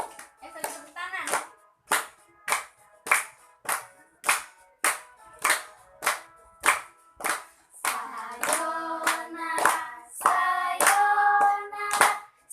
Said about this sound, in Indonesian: Sambil tepuk tangan.